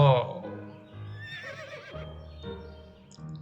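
A horse in the video game To The Moon gives a short, loud whinny at the start, followed by quieter snorting and voices talking.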